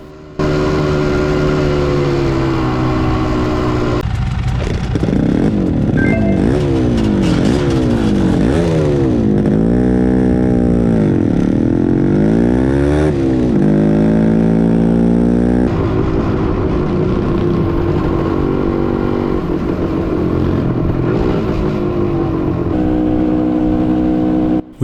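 A Dakar rally motorcycle engine in 2022 runs loud and close throughout, its revs climbing and dropping in repeated sweeping surges through the middle before settling into a steadier drone.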